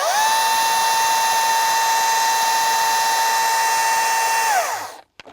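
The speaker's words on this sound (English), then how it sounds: "now I just need to run this on high speed until I see some bar and chain oil that sprays onto this board right here" A Milwaukee M18 FUEL battery top-handle chainsaw runs at full speed with its chain spinning, a loud steady high-pitched whine that winds down near the end followed by a couple of faint clicks.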